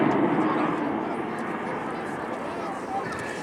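An RAF Typhoon FGR4 jet accelerates toward the airshow speed limit at Blackpool Airshow, producing a loud, steady broadband roar that fades slightly, with a voice commentating over it.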